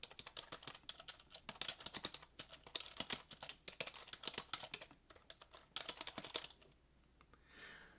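Real typing on a computer keyboard: a steady, fairly quiet stream of rapid key clicks with uneven rhythm, heard alone and fading to near silence at the end.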